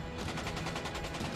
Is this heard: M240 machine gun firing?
yes